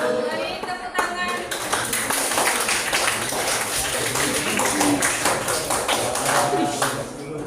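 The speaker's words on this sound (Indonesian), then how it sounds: "Beri tepuk tangan." A classroom of students claps together in a dense, steady patter of many hands that lasts several seconds, loud and close, with voices mixed in underneath.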